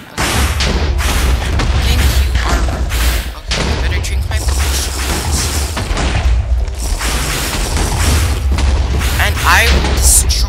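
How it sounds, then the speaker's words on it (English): Fireball shots and explosions in a video game, a dense run of loud booming blasts and crackling bursts almost without pause, with a voice talking over the din. "He shoots fireballs?"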